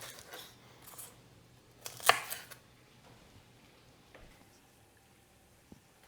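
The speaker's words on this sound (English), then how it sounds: "with these garlic cloves, I'm just going to cut them in half" Garlic cloves being cut in half with a knife on a board in a kitchen, a few soft crisp slicing and tapping sounds with one sharper cut in the middle, close and otherwise quiet.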